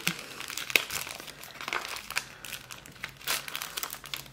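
Small paper envelope handled and opened, crinkling and rustling paper in irregular bursts with a sharper crackle, close up, no speech.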